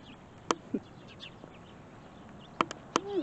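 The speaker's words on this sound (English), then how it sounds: "I feed the neighborhood crows." Neighborhood crows calling outdoors, a few short harsh caws spaced apart at moderate distance over quiet background hiss.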